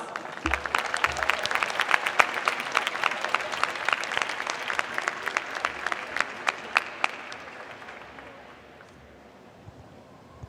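A round of applause from the audience at a college diploma and awards ceremony, dense sustained clapping that stays strong for most of the clip and then tapers off near the end.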